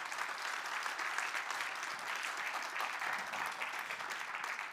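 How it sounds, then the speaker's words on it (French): An audience at an ethics conference claps in a continuous, even wash of applause, fairly quiet and distant, with no voices standing out. "Merci, on peut vous applaudir."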